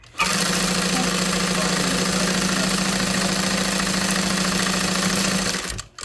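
Sewing machine running steadily as it back stitches a fabric tote bag, a loud, close, even motor whir with rapid needle chatter holding for about five seconds before stopping abruptly.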